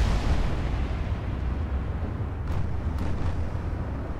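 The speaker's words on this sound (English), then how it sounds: "8-inch guns opening up as well." A continuous loud rumbling roar of 8-inch naval guns in a warship video game, with a couple of sharper crack-like bursts standing out briefly near the end.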